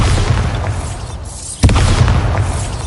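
A Bombarda spell explosion in Hogwarts Legacy bursts with a sharp, close crack over a loud, ongoing low rumble of battle, followed by a booming tail.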